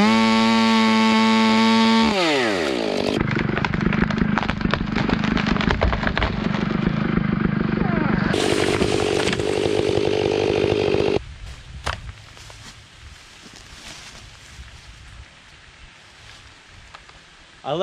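A chainsaw cuts down a tree in a fence row. The saw idles loud and close, then revs hard and bites into the wood in long sustained cuts, drops back and cuts again, and finally falls to a quieter rumble.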